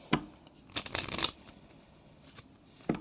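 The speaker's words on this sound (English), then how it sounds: "Let's shuffle the cards and see." A deck of cards being shuffled indoors: several quick riffling bursts, the longest in the middle, then a short final riffle, fairly quiet and close with no talking.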